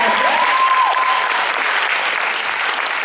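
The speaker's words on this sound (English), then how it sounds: "Let's give him a nice big round of applause" A conference audience applauds a juggler's performance with dense, steady clapping that holds at full strength for about three seconds; a faint whistle-like tone rises and sustains briefly near the start.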